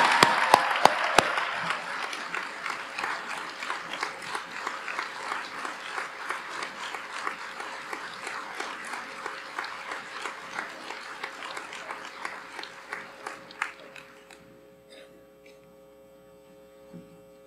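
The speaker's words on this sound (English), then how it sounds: "Please round of applause." Applause from the audience at a high school senior class day ceremony, steady dense clapping that carries on for many seconds before fading out near the end, with a low electrical hum underneath.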